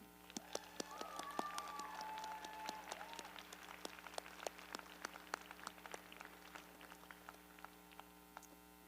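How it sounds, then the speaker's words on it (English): Graduation audience at Options High School applauding the families in attendance: faint, distant, scattered claps that thin out over about nine seconds, with a brief tonal voice-like sound early on. "Let's give a round of applause for the families that are here today."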